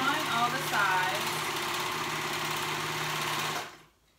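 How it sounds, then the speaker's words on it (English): A sewing machine runs steadily while stitching the sides of a 1970s-style top, a close, even motor whir that holds for several seconds before stopping abruptly, with a brief voice at the start. "Okay, so we're sewing all the sides."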